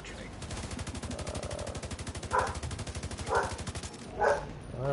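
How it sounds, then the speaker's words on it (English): An excited dog barks in a few loud, separate bursts over a dense, rapid gunfire-like rattle from a game. "My dog's going crazy."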